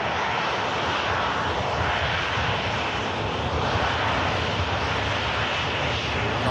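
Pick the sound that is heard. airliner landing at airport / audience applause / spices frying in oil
airliner landing at airport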